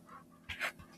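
A pet dog panting close by in a short burst of quick breaths, a brief huffing that stands out against a quiet room.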